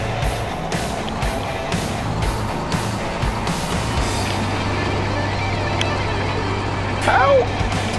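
A tractor engine in Farming Simulator 17 drones at a steady low pitch as the machine sits stuck, with a voice talking over the constant hum.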